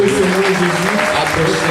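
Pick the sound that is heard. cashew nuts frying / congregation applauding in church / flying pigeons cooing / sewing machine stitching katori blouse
congregation applauding in church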